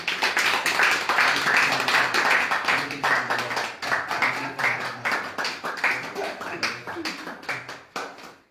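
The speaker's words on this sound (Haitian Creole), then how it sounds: "Staff là, on a applaudi." Staff members clap together in a lively round of applause, dense claps at first thinning into scattered individual claps, with voices mixed in underneath.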